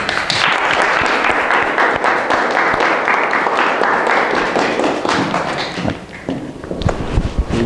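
A crowd applauds loudly and steadily for several seconds after a doctoral thesis defense, the clapping thinning out toward the end with a few scattered claps.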